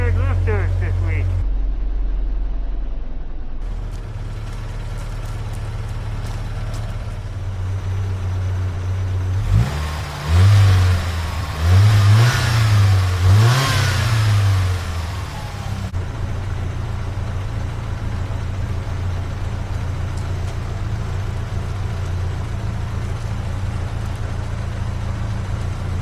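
Ford Mustang engine after a lifter replacement, idling steadily and then revving in several rising and falling bursts mid-way before settling back to a smooth idle, heard close with a voice briefly present.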